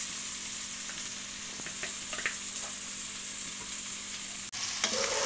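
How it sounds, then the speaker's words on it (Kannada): Cooked country chicken is tipped into a hot tempering for pulao, giving a steady sizzle and frying hiss with a few scraping stirs and a brief clatter near the end. "ಇವಾಗ ಒಗ್ಗರಣೆಗೆ ಸೇರಿಸ್ಕೋತೀನಿ."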